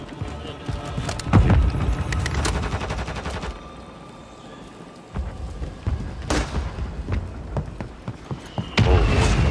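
Loud gunfire during a Warzone video game match: bursts of rapid automatic shots and heavy booming reports, close and sustained, with a quieter gap in the middle before firing picks up again.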